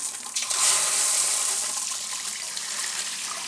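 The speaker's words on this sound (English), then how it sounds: "So we're going to start with hot water." Hot water runs from a hose or tap and is aimed at a knee during a hot-and-cold treatment: a steady, close, bright rushing hiss that starts abruptly, swells, then holds on evenly without talk.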